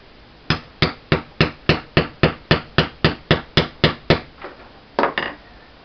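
A hammer strikes metal rings hard about fifteen times in a steady, quick rhythm, each blow ringing briefly, then a short pause and a final double strike.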